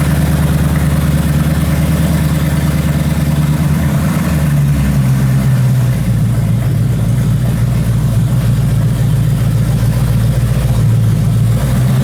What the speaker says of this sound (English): We now have a manual supercharged V8 Jag.